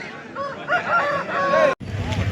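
A rooster at a Pileru hen market gives a loud, close call, with background market chatter and a brief break near the end.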